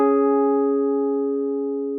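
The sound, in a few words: perfect fifth interval played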